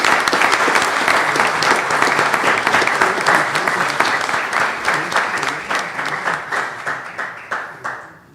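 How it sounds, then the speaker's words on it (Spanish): Audience at a molecular genealogy conference clapping, a dense, loud burst of applause that thins into slower, separate claps as it fades toward the end. "Yo pido un aplauso,"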